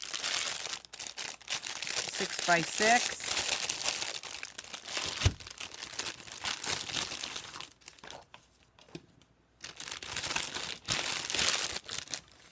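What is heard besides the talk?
handling a sheet of paper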